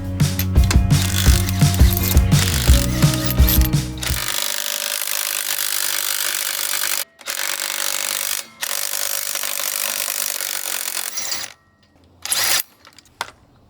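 A wrench works on a car wheel's lug nuts, with loud rapid ratcheting clicks up close, then a lower steady whir broken by brief pauses, and a few scattered clicks at the end.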